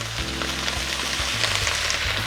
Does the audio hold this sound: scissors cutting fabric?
no